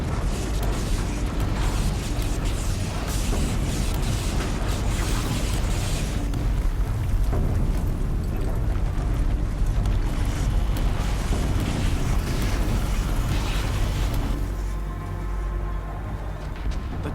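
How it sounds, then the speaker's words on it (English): Explosion in the video game Horizon Zero Dawn: a loud, dense, sustained rumbling roar with crackling bursts and booming debris that stays heavy for most of the stretch, easing slightly near the end. "we've got an explosion."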